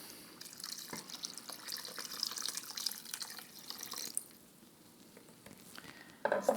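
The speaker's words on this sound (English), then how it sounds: "So we're just gonna remove that and add 2 cups of water." Two cups of water are poured into a pot of Quebec-style yellow split pea soup, a soft, faint splashing trickle that continues for several seconds and then tapers off, with a few small clinks at the end.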